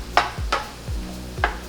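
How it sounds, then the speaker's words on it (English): A spoon stirs an eggplant and tomato mixture in a pan, giving three quick scraping strokes against the metal over a soft background hum, close and fairly quiet. "And then we're just going to give everything a nice mix again."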